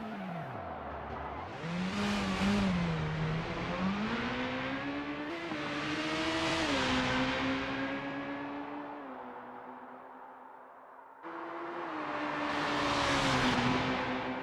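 Super Formula race cars hot lapping in a racing game on the Belgium circuit, loud continuous engine whine rising and falling through gear changes as cars accelerate and brake, one car after another, with no talk.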